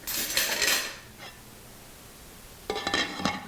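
A lid is set onto a crock pot in a home kitchen: a short clatter of metal or ceramic, then a quiet gap, then a second clinking rattle as it settles, close and moderately loud.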